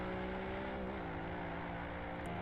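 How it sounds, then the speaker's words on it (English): A race car accelerates somewhere behind on a racing circuit, its engine note rising in steady harmonic tones under a constant droning whir, moderately distant and without any talk. "You can hear their car in the background under acceleration."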